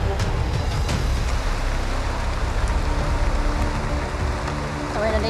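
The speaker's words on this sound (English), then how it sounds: "the rain became much stronger, flashing the surface of the forest road." Heavy rain falls on a forest road in the Philippine jungle, a loud continuous roar of water that stays constant from start to finish.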